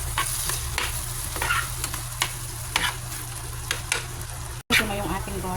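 Garlic sautéing in margarine in a pan for buttered shrimp, a steady close sizzle with scattered stirring clicks and scrapes throughout, briefly cut near the end.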